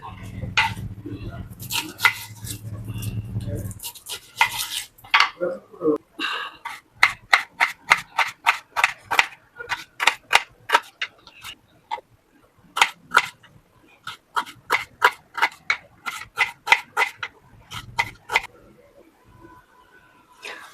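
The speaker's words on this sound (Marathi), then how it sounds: "आता याला कांदा चिरून घेते थोडासा लांब लांब" Knife chopping onions into long thin slices on a board for paneer rolls, a steady run of sharp, evenly spaced cuts close by, after a brief stretch of low rumble and shuffling at the start.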